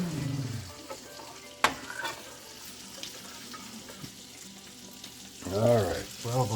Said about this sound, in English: Stirring the grits.